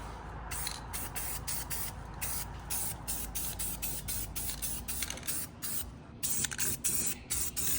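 Spray paint is dusted in a light coat onto the wheels of a 1979 Ford Econoline E-250 van, a continuous close hiss broken by rapid short pulses, with no talking.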